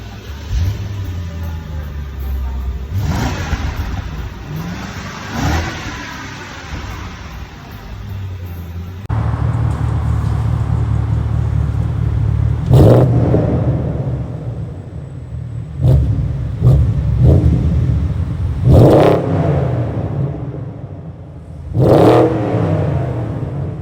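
A modified BMW 650i revs in an underground car park, with a steady idle rumble broken by several loud, sharp throttle blips that echo off the concrete, and no talking.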